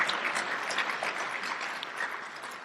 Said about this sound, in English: he deserves a great deal of applause